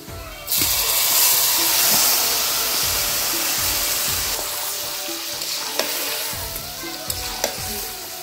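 Goat meat drops into hot oil in a pan, setting off a sudden loud hissing sizzle that stays strong and gradually settles, with a few sharp pops and stirring clicks toward the end, no voices.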